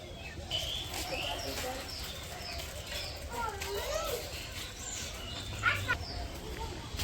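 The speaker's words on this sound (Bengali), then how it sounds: "পাখি, তারপর চারপাশ দিয়ে রাখতেছে কিচিরমিচি শব্দ" Many birds chirp and call around a foggy village in the morning, thin tweets and warbles scattered at a moderate distance over a soft outdoor hum, with someone talking faintly at times.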